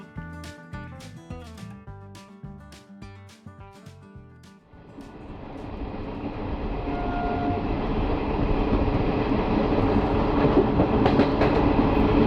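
Malda-Howrah Intercity Express running at speed after leaving Azimganj: rhythmic wheel clicks at first, then a loud, rising rumble and rush of the moving train, with no talk.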